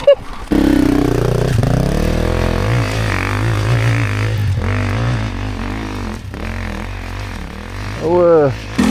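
A Beta 250 Race enduro motorcycle engine revving in rising and falling bursts, close and loud, with people talking over much of it and a sharp climbing rev near the end.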